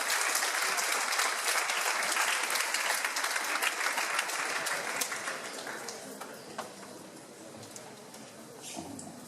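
An audience of students and faculty applauds a lecturer at a master lecture, with steady, dense clapping that slowly thins and fades toward the end.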